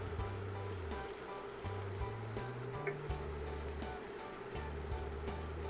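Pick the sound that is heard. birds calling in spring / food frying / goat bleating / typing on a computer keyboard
food frying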